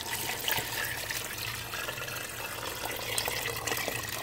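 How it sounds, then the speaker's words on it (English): About eight cups of water poured from a container into a soup pot holding beef, beans and vegetables, a steady close rushing splash that runs continuously for several seconds with no talk. "And then you're going to pour, I have about 8 cups of water here."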